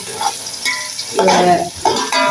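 Onions frying in hot oil in a pan for yakhni pulao, a steady close sizzle with stirring scrapes that swell louder in bursts, no talk.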